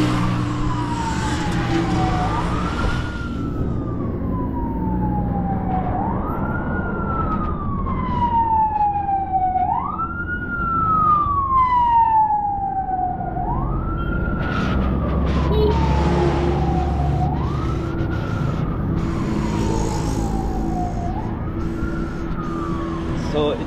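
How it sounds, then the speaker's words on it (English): A police car siren on a street in Juba wails in five slow rising and falling sweeps, approaching from behind over steady traffic rumble. "I can hear our police car coming with sirens, but it's coming from my back"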